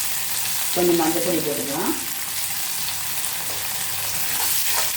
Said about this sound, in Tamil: வெங்காயம் செவக்க வதங்கட்டும்.